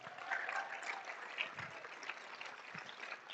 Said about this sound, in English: Let's give our presenters one more round of applause